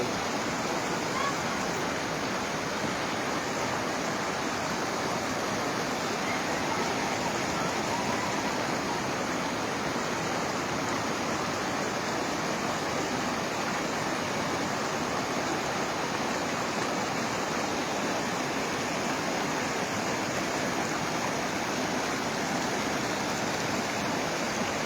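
Floodwater from the 2024 Panskura flood rushes across open fields as a loud, steady, broadband roar like a fast stream, continuous and close throughout, with faint voices occasionally under the torrent.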